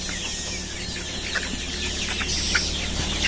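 A rooster sick with a cold and snoring-like breathing trouble clucks in short rough calls against a constant hissy, noisy farm background, fairly close.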